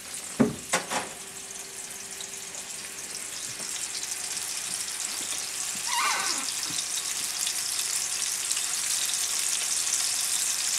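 Sockeye salmon fillet frying in hot oil in a pan makes a steady, close sizzle that gradually builds in loudness, with a few clanks at the start and brief scraping part way through.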